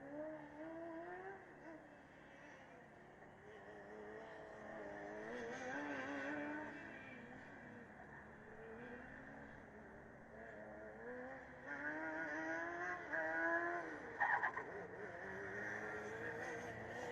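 Formula Student race cars lap an endurance track at the 2015 Formula Student Germany event, engines droning and shifting pitch as they pass at middle distance, with a brief louder burst near the end that may be wheels locking under braking.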